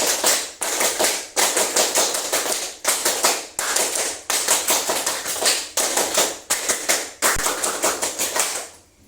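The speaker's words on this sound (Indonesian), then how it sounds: "Tepuk pramuka 3 kali." A classroom of students performing the Indonesian scout clap, tepuk pramuka, in three rounds of loud, crisp rhythmic hand claps separated by short pauses, close and without talk.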